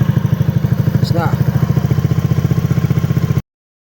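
A Honda Beat scooter engine idles steadily after fuel-injection, throttle body and CVT cleaning and an RPM tune, giving a close, even, rapid putter with a brief faint chirp partway through before it cuts off.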